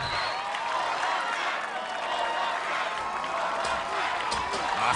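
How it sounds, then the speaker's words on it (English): Arena crowd at an American Ninja Warrior obstacle course, a loud, sustained roar of cheering and chanting with scattered claps, steady throughout with voices blended into the din. "The crowd chanting, hold on tight"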